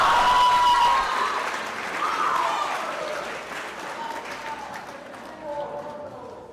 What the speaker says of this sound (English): please give a huge round of applause to Neil, Amari, Jane, and Mark